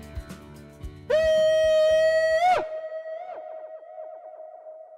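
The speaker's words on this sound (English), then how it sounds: "An interesting echo." A sustained tone sounded at Charyn Canyon in Kazakhstan rings out for about a second and a half, then cuts off and lingers as a fading echo off the canyon walls, clear and fairly loud.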